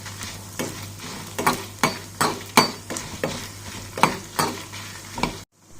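Spice powder for a roasted-ground chicken curry dry-roasting in a pan, a spatula scraping and stirring in a steady rhythm of about a dozen close, crisp strokes over a faint low hum, with no talking.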